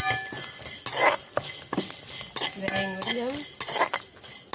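Fenugreek seeds splutter in hot oil while a metal spoon clinks and scrapes against the pot, bright clattering hits mixed with brief sizzling bursts and a ringing metallic tone, close and loud.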